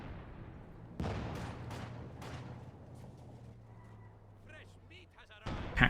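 Anti-tank gun fire in Company of Heroes 2: a sharp heavy report opens, followed by several quicker bangs and a lingering low rumble, all under continuous commentary, with another loud blast at the very end.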